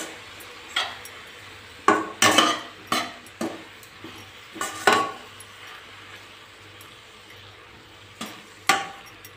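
A spatula stirs chopped tomatoes in a pan for Tamil garlic kulambu, giving a run of sharp clinks and scrapes at irregular intervals over a quiet background, with no voices.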